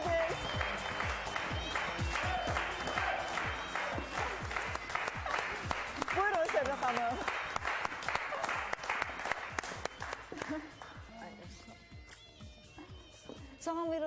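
Studio audience applause welcomes a singer onto a TV show stage, sustained dense clapping that is loud and steady for about ten seconds before thinning out, with a voice speaking over it near the end.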